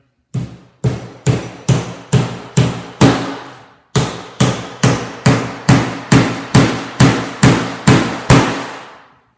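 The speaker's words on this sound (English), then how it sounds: "Once you have those 3 nails in, turn around and do the next 3 nails." Steady hammer blows drive nails into wood, about eighteen loud, sharp, evenly spaced strikes with one short pause partway through, close up and with no voices.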